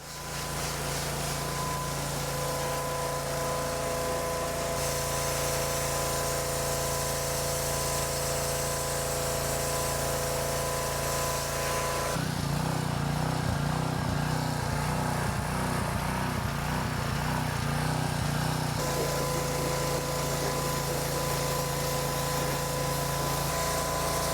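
A pressure washer hisses steadily while spraying water over a dirt bike to clear debris, a loud continuous rush that shifts in tone as the spray moves across different parts, with motor drone beneath and no talk.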